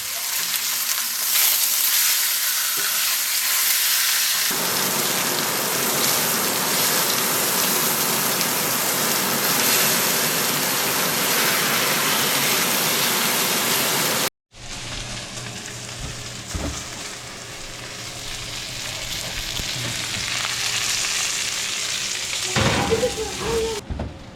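Coffee-rubbed venison sears in a cast iron pan over high heat, giving a loud, continuous, crackling sizzle. It runs for over twenty seconds, broken only by a very brief gap partway through, and then resumes just as strong.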